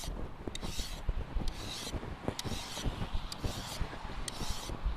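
A mill file rasps along a Mora Classic No 1 knife in one direction only, repeated one-way strokes with brief hissing bursts at a steady pace, close and fairly quiet with no talk.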